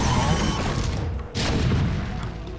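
Booming weapon fire from units attacking SCV workers in a StarCraft match, dense thudding blasts over a continuous battle roar, with one sharper crash midway and no talking.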